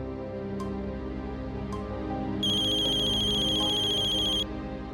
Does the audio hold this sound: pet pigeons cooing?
no